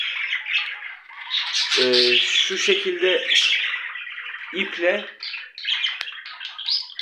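Budgerigars in a home breeding cage chirp and squawk in busy, high-pitched bursts, close to the microphone, while someone talks over them in Turkish.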